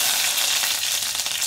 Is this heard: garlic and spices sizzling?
yes